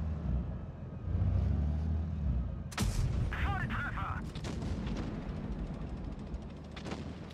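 Heavy tank cannon fire in World of Tanks Blitz during a Leopard 1 battle: a sudden loud boom, followed by a few more sharp blasts and rumbling engine noise, with speech in the background.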